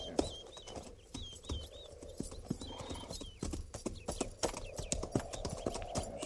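Horses' hooves clip-clop steadily in a Western radio drama set around a fort and creek, an uneven walking rhythm of close thuds with a horse's whinny near the start.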